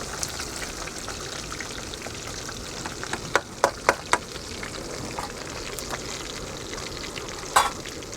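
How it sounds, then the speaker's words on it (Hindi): Kali river fish fries in a pan at a solo campsite, a dense close crackling sizzle that runs steadily throughout, broken by a few sharper pops and spatters. "तो मच्छी हमारा फ्राई हो गया है।"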